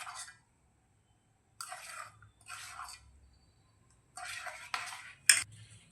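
Flour being mixed into eggs for a chocolate cake batter, with soft scraping and clinking of a utensil against a bowl in a few separate close bursts between short quiet pauses; no talking.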